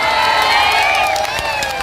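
A large crowd at an election rally in Araria cheers and shouts in a loud, continuous roar, with scattered claps and rising whoops over the din and no clear speech.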